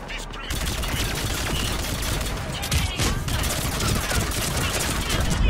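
Sustained gunfire from a firefight in the video game Mass Effect 3, a dense continuous rattle of automatic shots that fills the whole stretch, with voices mixed in.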